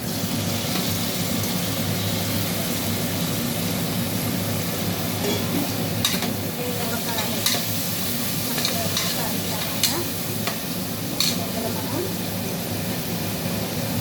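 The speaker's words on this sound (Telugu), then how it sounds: "ఇప్పుడు ఇందులో టమాటాలు వేసుకుందాం." Tomatoes frying with ginger paste and turmeric in a pan for tomato rice, giving a dense, steady sizzle with occasional soft stirring scrapes, close and continuous.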